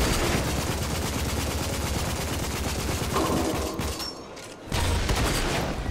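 Gunfire in a shooting video game, dense rapid bursts of shots that go on steadily and loudly, briefly thin out, then resume at full force.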